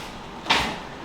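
A refrigerator door swings open or shut in a kitchen, one soft, brief thump and whoosh rising over quiet room tone and fading quickly.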